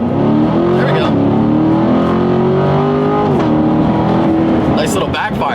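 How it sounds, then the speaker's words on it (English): A 2017 Chevrolet Corvette Grand Sport revs hard under acceleration, its engine note climbing steadily and loud from inside, with a few sharp pops near the end as the exhaust backfires; a voice talks over the engine. "Nice little backfire there."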